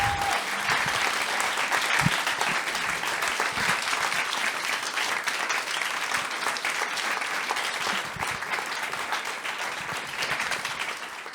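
A forum audience at an opening session breaks into long, sustained applause, a dense even wash of clapping that continues steadily before tapering slightly.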